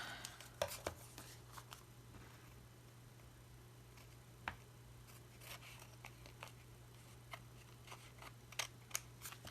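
Scissors trimming a paper product tag give a run of small, sharp snips and clicks, close and quiet against a steady low hum, with no talking.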